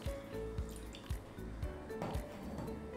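Cold milk being poured into a mixing jar, a faint liquid pour with a run of soft drips and splashes at close range and no one talking.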